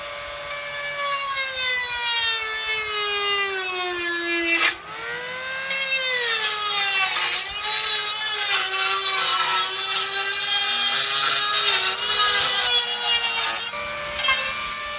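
A small Tackle Life multi-purpose power tool cutting through wood for a homemade feed scoop, a loud close whining buzz that pitches down as the blade bites, pausing briefly once then grinding on steadily.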